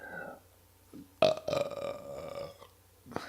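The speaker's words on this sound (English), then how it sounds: "you burp right into the microphone" Loud, drawn-out burp made right into a microphone, a sharp onset followed by a second of rumbling belch, then quiet with a few faint small noises.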